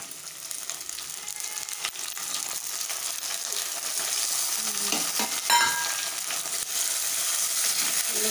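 Tomatoes sauté for a prawn curry in a pan, giving off a steady, close hiss of frying with occasional stirring scrapes and a brief louder crackle partway through.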